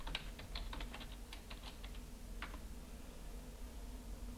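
Password typed on a computer keyboard: a quick run of light key clicks in uneven bursts, close but soft over steady background hiss, no talk.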